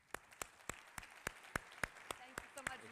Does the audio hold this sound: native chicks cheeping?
no